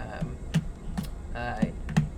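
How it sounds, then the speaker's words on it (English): Loud typing on a computer keyboard during a PC game-building stream, with a handful of sharp, irregular key clicks spaced about half a second apart under faint background sound. "Sorry if using the keyboard's kind of loud."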